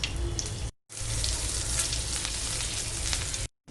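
Cumin seeds and green chilies crackle and hiss in hot mustard oil in a kadai, a dense, close sizzle that cuts out briefly near the start and again at the end.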